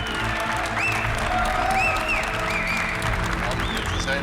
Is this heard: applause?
yes